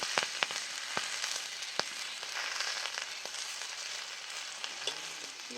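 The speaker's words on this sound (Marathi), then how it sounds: "आता ह्याच्यावर आपल्याला एक एक पान भाजून घ्यायचं" Herb leaves fry one at a time in oil on a hot griddle, giving a steady crackling sizzle with a few sharp pops, close and moderately loud, with no voices.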